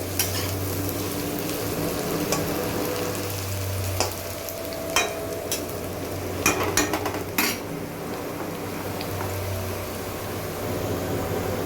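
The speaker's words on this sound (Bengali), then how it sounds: "আলুটা আমার ভাজা হয়ে গেছে" Potatoes fry in a pan with a continuous sizzle and stirring, a low hum running underneath and several sharp metallic clinks of utensil against pan scattered through the middle.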